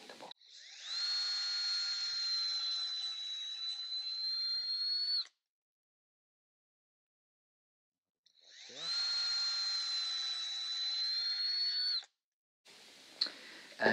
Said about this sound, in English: We're gonna drill one hole in the corner and a little bit diagonally